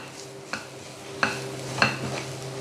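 Spice powders sauté in a pan for a chicken cutlet filling, with a soft background sizzle and three or four sharp scraping strokes of a spoon against the pan.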